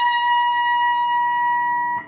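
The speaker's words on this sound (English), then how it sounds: "you're going to play a vibrato there at your half step bend." Electric guitar playing a single picked note bent up a half step and held with vibrato, a sustained clear tone ringing steadily for about two seconds before cutting off.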